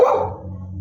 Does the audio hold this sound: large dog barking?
yes